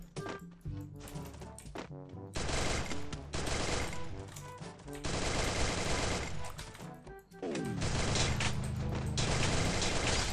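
Gunfire in the battle royale video game Free Fire: rapid automatic bursts and repeated single shots, loud and close, nearly continuous with brief gaps between volleys.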